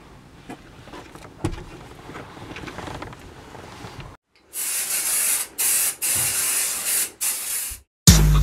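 Supafly men's body spray sprayed from a can in several bursts, loud, close hissing blasts of varying length with short gaps between, after a stretch of quieter background noise.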